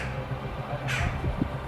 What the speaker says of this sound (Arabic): هذا الطائر يشبه الغراب لكنه صغير، أو لربما طائر المواء الأسود.